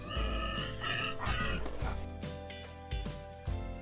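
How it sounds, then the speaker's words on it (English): A toy pig from a farm playset plays a recorded grunting oink, close and fairly loud, with a few short snorts following. "Here's our friendly pig."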